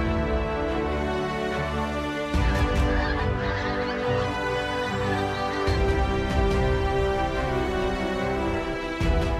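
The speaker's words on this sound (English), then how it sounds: "From the winter migrants like the pink-footed geese" A large flock of pink-footed geese on the North Norfolk coast in winter honks continuously, a dense overlapping chorus of calls that swells and shifts, with no one talking.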